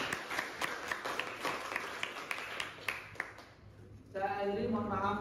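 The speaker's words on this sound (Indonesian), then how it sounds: "Kita beri aplaus bersama" A classroom group claps together during a microteaching session. Moderate applause runs under a speaking voice, then fades, and talk continues afterward.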